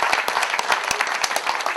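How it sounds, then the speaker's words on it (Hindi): An audience at a talk breaks into steady applause, many hands clapping together in a dense, continuous patter for the whole short stretch. "जोरदार ताली आनी चाहिए दोस्तों"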